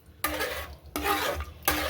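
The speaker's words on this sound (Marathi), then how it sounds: "हे पूर्ण मिक्स करून घ्यायचं त्याला" Sago pearls and water are stirred together in a pot, three short scraping strokes a spoon's width apart, close and fairly quiet in a kitchen.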